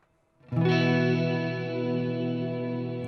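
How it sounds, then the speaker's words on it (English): An electric guitar chord played through a Mooer Ocean Machine reverb pedal rings out and sustains with a lush, spacious reverb tail that slowly decays. "So if I turn the reverb on for a moment, and we can have a play there."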